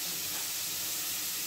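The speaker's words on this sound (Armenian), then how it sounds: "մանր կտրատած սոխը տապակում եմ" Finely chopped onion frying in a pan, a brief, steady, close hiss and sizzle with no other sounds.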